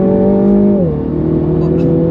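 Stock Mini F56 GP3 with catalytic converter and particulate filter fitted, accelerating hard on a race track: a steady, loud engine drone that drops in pitch at a gear change and then climbs again, with no talk.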